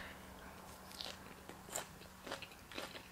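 Crunchy salad being bitten and chewed up close, with several distinct crisp crunches spread across a few seconds and no talking.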